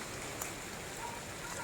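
Even, soft hiss of rain falling, faint and continuous throughout with no distinct drops standing out.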